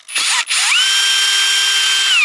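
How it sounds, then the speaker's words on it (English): A loud, high-pitched power drill whines steadily close by while installing a hydrant, briefly stopping and revving back up before holding a constant shrill tone. "That's the loudest flipping drill."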